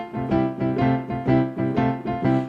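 Boogie-woogie piano riff with parallel open right-hand chord voicings over a left-hand pattern, rhythmic repeated chord stabs played close and clear with no talking.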